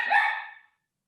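A single short, sharp dog bark sounds close by and fairly loud, then fades quickly into silence.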